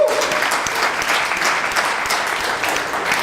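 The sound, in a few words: audience applause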